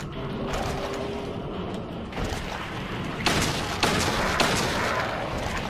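Gunfire in the video game Silent Hill 2 cuts through a dense, noisy game soundscape, with a few sharp booming shots landing near the end.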